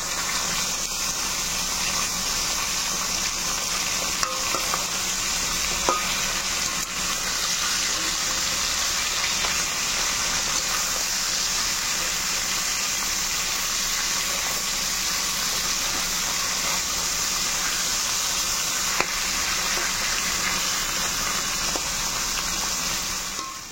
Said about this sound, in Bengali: অনেকগুলো মাছের মাথা ছিল তো ভাজতে একটু সময় লেগে গেল।